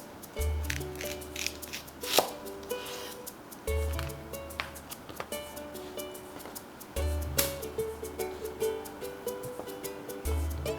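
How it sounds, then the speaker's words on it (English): A knife cuts myoga Japanese ginger on a board, a few crisp thuds and chops spaced out over quiet background music, with no talk. "Cut off the root. Cut in half lengthwise."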